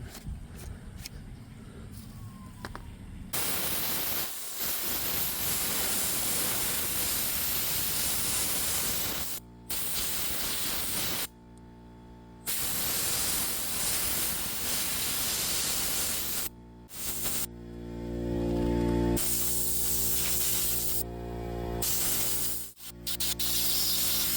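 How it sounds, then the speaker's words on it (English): WD-40 is sprayed into a Craftsman chainsaw during repair work, in long loud hissing bursts separated by brief pauses and a few short squirts. "Maybe put some WD-40 in there, lube it up."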